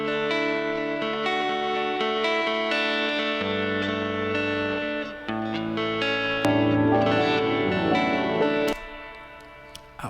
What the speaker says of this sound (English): I also love to send my piano to the reverb as well